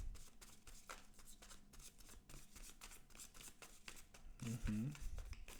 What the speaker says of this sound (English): Okay, this is the shuffle.